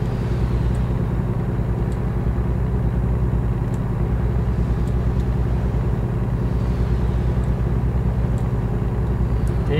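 Truck engine at full throttle in American Truck Simulator, a loud, steady low rumble droning without pause from the cab, no talking.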